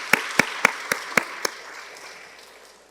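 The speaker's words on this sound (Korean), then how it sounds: "박수로 한번 우리 응원드리겠습니다" A church congregation clapping for the choir: six sharp, evenly spaced claps in unison ring out in a reverberant room, then the echo fades into quiet.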